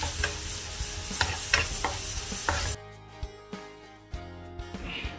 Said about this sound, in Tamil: ப்ளம்ஸையும் இப்படி நாங்கள் ஃப்ரை பண்ணி எடுத்துக்கொள்கிறோம்.